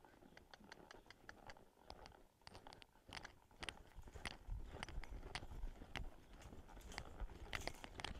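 A horse's hooves clop steadily on soft ground in a round pen, a rapid uneven rhythm of thuds and clicks, with faint rustling in the background.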